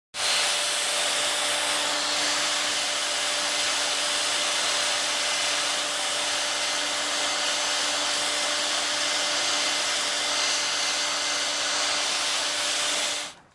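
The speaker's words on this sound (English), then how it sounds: "And if I can, I also use the hairdryer," Hair dryer blowing steadily to dry chalk paint on a wall, a constant close whooshing roar with a faint motor whine, running alone for about thirteen seconds before switching off.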